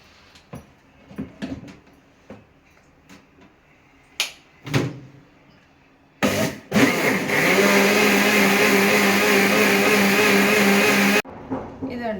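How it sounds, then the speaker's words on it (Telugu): A mixer grinder whirs loudly and steadily for about five seconds, grinding potato batter, then cuts off abruptly; scattered kitchen clatter and soft knocks come before it, with a short burst of noise after. "ఇది రుబ్బుకుందామండి మిక్సీ పట్టుకుందాం"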